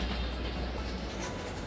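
Metro train at a station in Shanghai, a steady, loud rumble of rail cars with faint clickety-clack running throughout, no voices.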